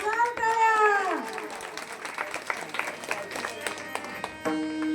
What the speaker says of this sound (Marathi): या मुलींसाठी जोरदार टाळ्या